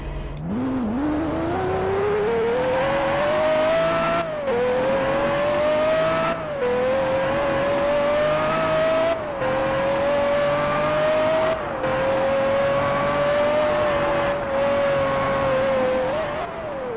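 A Pagani Zonda sports car engine screams at sustained high revs near top speed, pitch climbing and holding with brief dips between gear shifts, loud and close.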